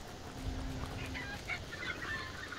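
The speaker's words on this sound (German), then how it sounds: "Hier gibt es auch Hühner." Chickens in the video game Hunt: Showdown, cluck and squawk softly over a steady low ambient hum, a few short calls close by with no talking.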